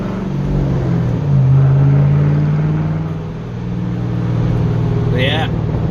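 A deep, throaty V8 engine of a fifth-generation Chevrolet Camaro SS idles and revs with a steady low rumble, swelling loud then easing, with a brief higher whine near the end.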